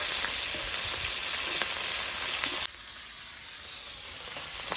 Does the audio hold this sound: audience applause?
no